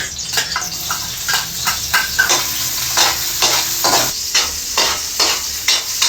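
Onion and garlic hit hot cooking oil in a home kitchen and sizzle, with a continuous hiss broken by repeated scraping stirs of a utensil in the pan, close and fairly loud, no talk.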